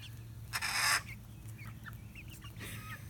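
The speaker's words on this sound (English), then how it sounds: "Somebody over here is trying to crow." A chicken, likely one of a mixed flock including Polish hens, lets out a short, strained attempt at a crow, followed by scattered clucks and chirps from nearby fowl over a steady low hum.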